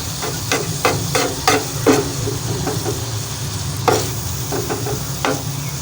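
Mutton tawa keema frying on a hot tawa and being stirred with a spoon, with a steady sizzle and irregular scraping clinks.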